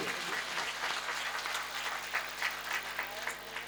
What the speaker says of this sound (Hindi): ताली मेरे प्रभु के लिए।